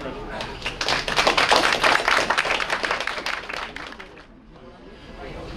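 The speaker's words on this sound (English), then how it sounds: "let's have a warm round of applause" An audience at a MUFON meeting applauds a speaker, a loud burst of many hands clapping that swells, then tapers off into a quiet room.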